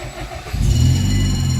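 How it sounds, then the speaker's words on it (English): A 2007 Nissan Rogue engine cranks and catches, settling into a loud, steady idle rumble close by after a brief quieter moment. "The car is start."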